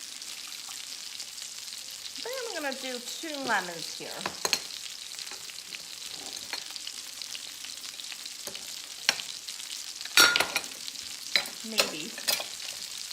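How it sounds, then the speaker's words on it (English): Steady frying sizzle from chicken for chicken piccata in a hot pan, crackling softly throughout while a person talks briefly over it, with a few sharp clinks and taps. "I think you can hear that chicken sizzling"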